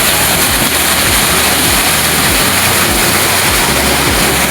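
Loud, steady rush of water gushing without pause from a pump motor irrigating a coriander field, over a low mechanical rumble from the running motor.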